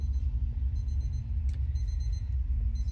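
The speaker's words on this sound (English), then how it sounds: "Can you turn the alarm off for me, please?" Thin, high electronic alarm beeps sound on and off in the ghost-hunting video game Obsideo, fairly faint above a constant low rumble of room tone.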